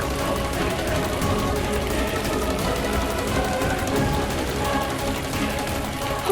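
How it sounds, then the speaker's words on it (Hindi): Heavy rain pours down in a steady, dense, even hiss of rushing water that stays constant and fairly loud from start to finish. "ये ऐसी कैसी बारिश हो रही है?"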